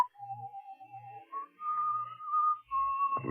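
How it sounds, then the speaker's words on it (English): A slasher whistles a slow, wavering tune in an old-time radio horror drama, a clear solo melody of several sustained notes with brief pauses, fairly close and unaccompanied. "The slasher whistles that tune."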